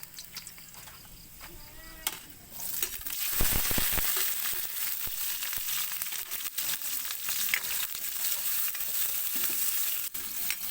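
Garlic fries in a pan with a soft continuous sizzle and intermittent stirring scrapes and clinks, fairly quiet and close, with no talking.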